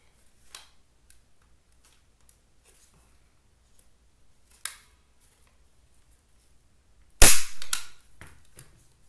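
Staple gun firing while bracers are made: faint clicks early on, one short snap near the middle, then a loud sharp staple shot followed by brief rattling, with no talking.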